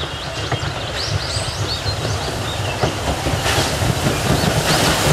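A Thomas toy train rolls steadily along with a constant rumbling clatter of wheels on track, fairly loud and close, with occasional higher squeaks and no voices.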